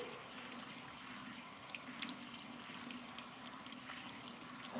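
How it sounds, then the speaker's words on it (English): Tap water gushes steadily into a kitchen sink over about a cup of peas, a close, continuous splashing rush with no talking. "I'm just going to run some water over them"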